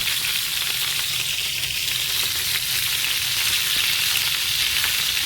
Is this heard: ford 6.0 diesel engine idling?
no